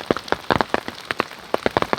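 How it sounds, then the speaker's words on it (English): Hailstones pelt an umbrella held up during a thunderstorm on a long-distance mountain trail near the Montana border: a dense, irregular patter of sharp, close, loud taps and cracks with no voices. "Well, it's hailing pretty hard."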